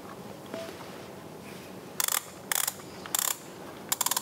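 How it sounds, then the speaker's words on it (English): Ratchet dial on the back of a VR headset being turned to tighten, four quick bursts of sharp close clicking after a quiet start, each burst a rapid string of ratchet ticks. "you see this dial back here, you're going to turn it to the right to tighten it to a comfortable level on your head"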